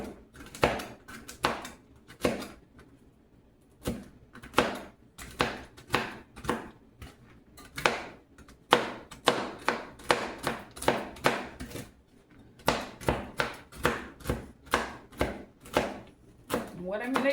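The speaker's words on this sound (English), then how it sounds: "I'm gonna cut these up. I don't want them real fine." A knife chops nuts on a cutting board for an apple crumble topping, with sharp, rapid, irregular taps close up, coming in bursts with short pauses and a voice talking over some of them.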